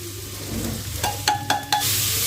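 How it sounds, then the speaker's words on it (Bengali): Spices being stirred into onion, ginger and garlic in a pan for capsicum masala, with a steady sizzle under three sharp scraping strokes of the spatula near the end. "ভালোভাবে পেঁয়াজ, আদা রসুনের সাথে মশলাগুলো মিশিয়ে দিচ্ছি"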